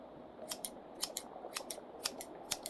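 Scissors snip close to the microphone in a quiet ASMR meditation, a steady run of crisp, soft paired cuts repeating about twice per second with no talking.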